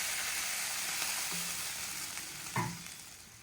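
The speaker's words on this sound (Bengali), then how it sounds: "জল দিয়ে দিচ্ছি এর মধ্যে।" Water poured into a hot cooking pan while making a Bengali prawn and taro-stem dish brings a steady close sizzle and a brief splash near the end.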